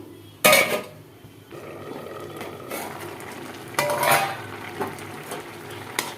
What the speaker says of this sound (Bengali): এবার একটু নেড়ে চেড়ে ভালো করে ঢেকে রাখবো কিছুক্ষণ